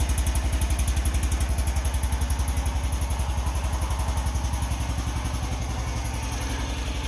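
A BMW Isetta's small engine runs just after being started, a fast, even, throbbing idle with a metallic clatter that continues steadily throughout, close and fairly loud with no talking.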